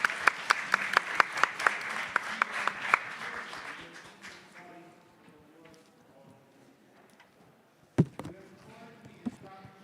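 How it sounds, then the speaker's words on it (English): A small audience at a young challengers pitch event claps, a few loud distinct claps at first thinning out as talk continues, with a sharp knock later. "A big round of applause, come on."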